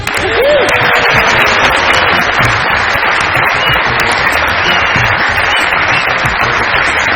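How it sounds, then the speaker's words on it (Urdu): Studio audience at a Pakistani TV comedy show gives loud, steady applause to welcome a guest, a dense unbroken wash of clapping that fills the whole few seconds. "آپ سب لوگوں کی بہت ساری تالیوں میں ویلکم کرتے ہیں"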